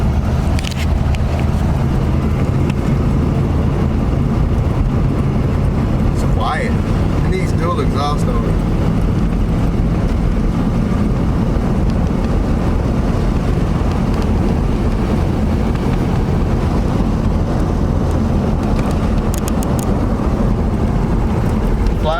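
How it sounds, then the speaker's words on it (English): A 1979 Chevy G20 custom van's V8, running for its first drive in 35 years, gives a loud, steady rumble and road roar that holds for the whole stretch, with a few faint rattles on top. "Sounds like a V8."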